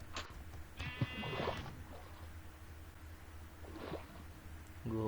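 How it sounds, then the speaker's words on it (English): Sheep in a video game bleat in a couple of short wavering calls near the middle, followed by a softer one later, over a low background hum. "You see this sheep? I want to kill them."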